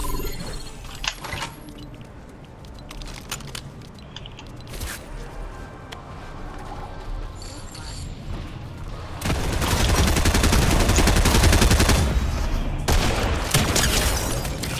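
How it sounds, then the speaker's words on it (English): Rapid gunfire in the video game Fortnite, a steady crackle under game noise that swells into a loud, dense burst of shots in the second half, with no talk. "I'm getting shot at from behind me."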